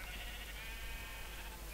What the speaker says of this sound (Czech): je paráda ovce